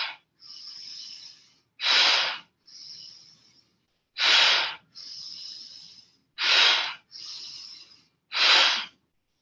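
Forceful breathing exercise with deep inhales drawn through the nose and strong exhales, alternating in a steady rhythm of long hissing breaths and short sharp bursts, close and loud with no talking.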